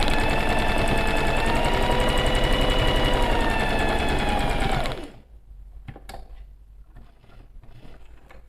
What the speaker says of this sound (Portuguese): Não precisa dar retrocesso, eu vou começar a fazer a minha costura.